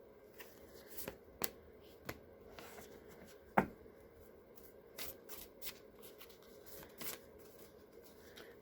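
A tarot card deck is shuffled in quiet indoor surroundings, giving soft riffling with a few sharper card snaps, one loud slap near the middle.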